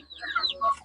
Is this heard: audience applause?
no